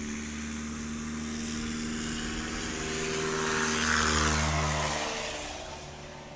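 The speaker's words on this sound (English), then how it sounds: "on that takeoff, the tailwind touched the ground just as the mains were lifting off" A tail wheel light aircraft takes off during STOL practice at an airpark, its propeller engine droning steadily with low harmonic hum, swelling louder mid-clip as it passes nearer, then easing slightly.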